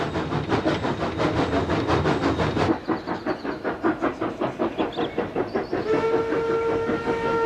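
A steam locomotive climbing uphill chuffs loudly and rhythmically, the exhaust beats spaced out and laboring as it slows on the grade, ending with a sustained steam whistle tone.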